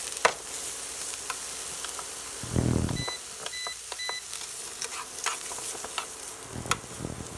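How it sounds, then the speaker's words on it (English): Eggplant is stirred in a pan on an induction burner with sesame oil and garlic, giving a soft steady sizzle broken by spatula scrapes and a few electronic beeps. "Get that sesame oil and garlic nicely coated on the eggplants."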